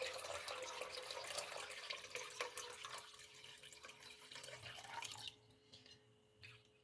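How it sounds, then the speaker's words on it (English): Cold tap water runs over dried beans in a bowl, a steady splashing hiss that stops abruptly near the end, followed by a few faint drips. "cold tap water is fine."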